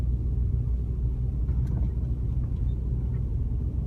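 Car crawling slowly along a snowy road beside Wollaston Beach in Quincy, Massachusetts during a blizzard, with a steady, heavy low rumble of engine and road noise inside the vehicle, continuous and even throughout.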